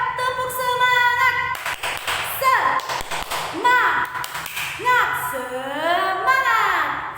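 A school class performs the Indonesian 'tepuk semangat' clapping chant, children's voices rising and falling in sung calls mixed with bursts of rhythmic clapping, loud and close with overlapping speech.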